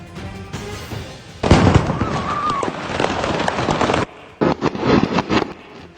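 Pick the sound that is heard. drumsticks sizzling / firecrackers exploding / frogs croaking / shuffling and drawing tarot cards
firecrackers exploding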